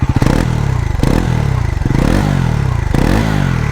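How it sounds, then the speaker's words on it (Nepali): A Bajaj Pulsar NS 400Z motorcycle's 400cc engine and exhaust revving up close in repeated loud bursts, each rising and falling over a steady engine drone. "बाइक रेप गरेर इन्जिनबाट साउन्ड आउँछ"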